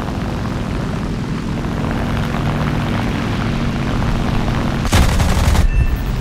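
A Fw190A-4 fighter plane in a flight combat video game, its propeller engine droning steadily before a sharp roughly one-second burst of gunfire near the end.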